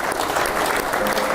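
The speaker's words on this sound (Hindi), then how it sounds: "एक बार इनके लिए तालियां हो जाती हैं।" Short burst of dense, steady applause from a group, clapping for children after a yoga session, filling the whole moment at an even loudness.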